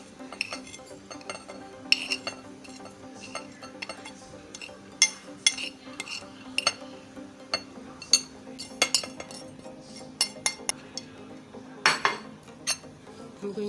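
Oil with ginger, garlic and onion is mixed in a pan, heard as irregular metallic clinks and scrapes of a utensil against the cookware, moderately loud and close, over a steady low background hum.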